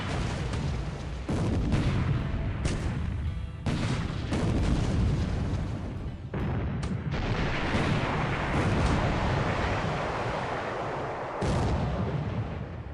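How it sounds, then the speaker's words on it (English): Naval combat in a World War II video game as cruisers and destroyers duel: repeated heavy gunfire booms and explosion bursts, including an internal explosion on a ship, roll continuously at close range over a dense rumbling battle din, with no talk. "Had an internal explosion on that Piratejoe there"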